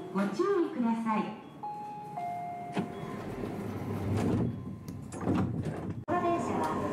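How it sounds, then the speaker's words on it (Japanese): Train doors closing on a Tobu Urban Park Line platform at Kasukabe station, track 8, heard as a brief thud and slide under an announcement voice and a melodic chime, with station ambience throughout. "8番線ドアが閉まります。"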